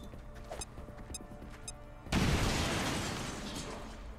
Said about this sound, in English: Throw a frag grenade.